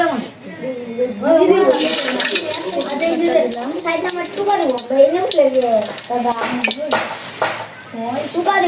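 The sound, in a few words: oil sizzling and frying in pan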